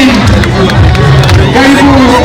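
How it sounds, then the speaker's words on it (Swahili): A congregation at an outdoor bishop's installation in Eldoret breaks into a loud, dense roar of clapping and cheering, with voices shouting over the applause throughout a short burst. "Makofi."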